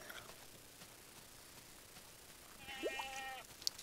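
A Minecraft goat gives a short, wavering bleat near the end over a quiet, faintly hissing game background, with no speech.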